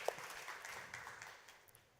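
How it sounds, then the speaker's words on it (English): An audience applauds panelists at the end of a capital markets forum session in Hong Kong, a moderate wash of clapping that starts with a sharp clap and slowly fades over two seconds. "let's give a round of applause to our panelists."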